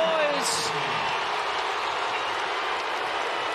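A sellout basketball crowd at an NCAA second-round game roars in a steady, loud wash of arena noise. A brief whistle-like tone sounds near the start.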